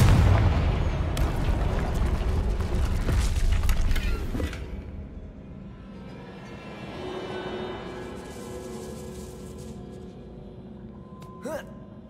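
Confringo and Bombarda spells explode in the video game Hogwarts Legacy, with a dense run of heavy booms and crackling blasts over the first few seconds. These fade into quieter rumbling ambience, followed by a late sharp hit.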